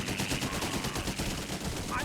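Rapid gunfire and machine-gun bursts crackle continuously through a battle in the video game Blitzkrieg 3, dense overlapping shots that are loud and fairly close throughout.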